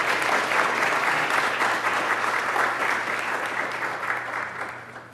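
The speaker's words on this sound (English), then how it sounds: "give yourselves a round of applause" Sustained applause from an audience at a scholarship awards ceremony, a dense steady wash of many hands clapping that stays loud throughout and eases slightly toward the end.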